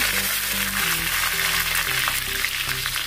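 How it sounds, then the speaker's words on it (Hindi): Mustard seeds and curry leaves sizzle and crackle in hot oil with a steady frying hiss, close up and continuous, with no voices. "तड़के के लिए मैंने तेल गरम किया है। इसमें डाल देंगे थोड़ी सी राई, कड़ी पत्ता"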